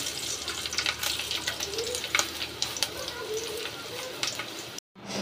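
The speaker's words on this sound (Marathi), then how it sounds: "तेल तापलं की त्याच्यामध्ये घालायचं आहे लसूण" Garlic frying in hot oil in a pan, a steady close sizzle with crackling spatters throughout, continuous and fairly even before a brief cut near the end.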